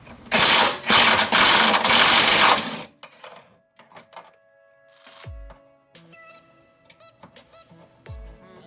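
Wrench or power tool removing 16 mm bolts on a BMW M54 engine, a loud sustained mechanical whir for about three seconds, followed by quieter clinks and metallic rattles close by.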